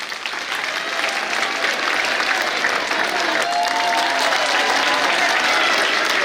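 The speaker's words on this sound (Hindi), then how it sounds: "इसलिए अपने लिए ताली बजाइए।" Sustained applause from an audience at a school annual function, steady, dense clapping that fills the whole stretch at an even, fairly loud level with no voices rising above it.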